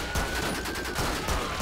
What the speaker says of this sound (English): he's got a fucking submachine gun or some shit